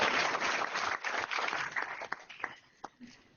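A board meeting audience claps in a dense burst of applause that thins into scattered individual claps, heard indoors and somewhat muffled.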